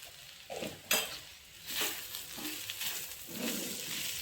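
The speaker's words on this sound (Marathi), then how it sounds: "सर्व मिश्रण एकजीव करून घ्यायचे." Masala okra (bhindi) mixture being stirred in a pan, with soft scraping and gentle sizzling swells that come and go close by, a few light clinks of the utensil against the metal.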